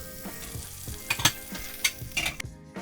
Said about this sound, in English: Cook the steak until it reaches the level of doneness that you prefer.